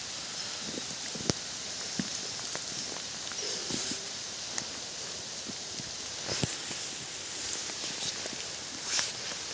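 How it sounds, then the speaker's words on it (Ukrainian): Steady rain patters through a forest, with scattered drops hitting leaves and occasional sharper taps, continuous and fairly soft throughout. "ще й дощ падає."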